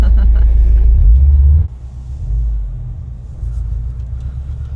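A Subaru STI drifting on the snow-covered frozen Saint Lawrence near Montréal gives a heavy engine rumble that drops sharply partway through and then surges again, close and loud, with occasional voices in the cabin.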